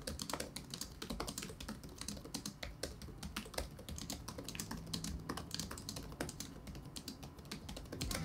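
Steady, rapid typing on the keys of a Dell XPS 13 laptop, crisp sharp clicks fairly close and continuous with no talking.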